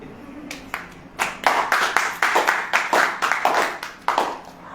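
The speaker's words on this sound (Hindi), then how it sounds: "ताली बजाइए" A small group claps in uneven bursts, starting sparse and building to steady, close clapping that rises and falls over several seconds.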